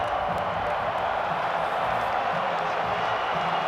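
Steady broad roar of a large rugby crowd at Loftus Versfeld in Pretoria during a Springboks versus All Blacks test match, continuous and dense with faint cheering mixed through, distant and unbroken.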